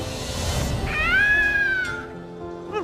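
A single cat in a film gives one drawn-out, rising-then-falling meow, close and clear, preceded by a low rumbling background.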